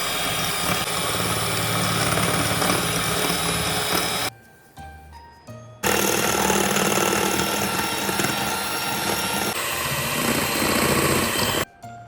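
An electric mixer beating plum cake batter as sugar is added bit by bit, whirring loudly and steadily, cutting out briefly twice and then starting up again.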